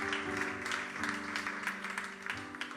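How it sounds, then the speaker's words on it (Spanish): Church congregation clapping for the Lord during a Spanish sermon, with steady applause beneath sustained organ or keyboard chords. "dale un aplauso al Señor"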